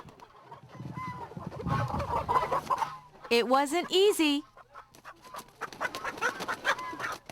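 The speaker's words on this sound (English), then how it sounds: "To catch a live chicken, what a tall order!" A live chicken clucks and squawks loudly up close while being caught, its agitated calls bursting out in the middle between stretches of someone talking.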